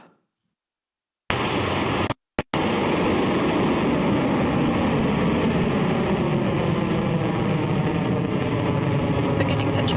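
A Rocket Lab Electron rocket lifts off, bursting in after a brief silence as a loud, dense, sustained roar that briefly drops out once before rumbling on steadily.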